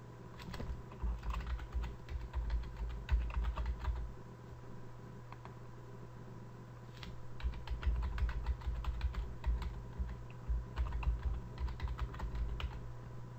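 Fast, irregular typing on a computer keyboard during a Citrix XenApp 6.5 server setup, with bursts of clicky keystrokes, a short pause midway, then more typing over a steady electronic hum.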